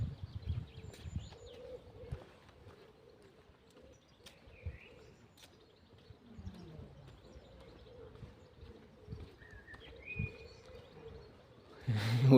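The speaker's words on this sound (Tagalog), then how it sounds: "Kalapati." Pigeons cooing on a street in Hungary, soft low rolling coos repeating faintly in the background amid quiet outdoor ambience, with a few brief chirps and a louder rustle at the end.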